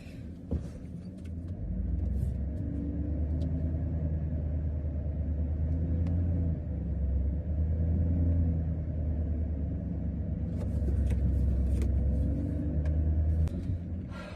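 A farm truck in 4-wheel drive crawling over a hump, a steady low engine rumble that swells and eases as it strains, close and continuous with faint rattles near the start and end.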